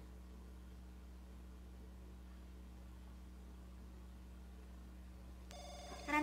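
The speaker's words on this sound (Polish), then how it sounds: "Ej, ktoś nawet dzwoni." A telephone rings in The Sims 2 video game, a short electronic tone that starts only at the very end after a long stretch of low hum.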